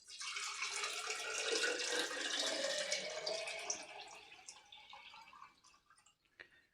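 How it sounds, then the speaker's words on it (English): Water is poured into a container while building a salt-water dummy load: a steady splashing stream for about four seconds that thins to a trickle and a few last drips. "I'm now going to pour that into here."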